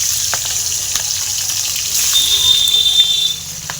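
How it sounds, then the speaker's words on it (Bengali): Prawns frying in hot oil in a wok, a steady broadband sizzle that holds throughout and swells a little in the middle, with a faint high whistle-like tone partway through and no talking. "এবার চিংড়ি মাছগুলো হালকা করে ভেজে নেব"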